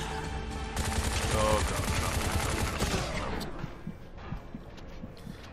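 Gunfire in the video game Bright Memory, rapid bursts of shots crowding the first few seconds under game music and effects, then thinning to scattered sharper hits, with a man reacting briefly in speech.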